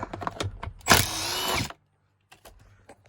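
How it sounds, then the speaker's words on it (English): A 10 mm bolt is being unscrewed from the airbag of a Nissan Pathfinder. One close, loud burst of power-tool whirring lasts under a second, with faint clicks and mechanical handling before and after. "Then I just unscrew that"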